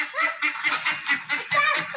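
A crowd of chickens packed into a coop in Pakistan squawk and cackle loudly and nonstop, the overlapping calls rising and falling in close, agitated bursts.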